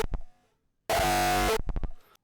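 Bass-boosted Roland 909 kick drum for hardstyle, a few rapid fat thumps with heavier body, interrupted by a loud sustained buzzy tone lasting under a second, then more quick kicks fading out.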